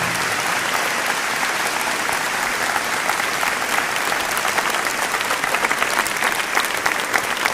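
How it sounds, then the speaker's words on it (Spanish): Loud, sustained applause from a crowd at a Flag Day ceremony in Villa Angela, Chaco, honoring the municipal band, dense clapping throughout with a few sharper claps rising toward the end. "Le damos un merecido aplauso por su incansable trabajo."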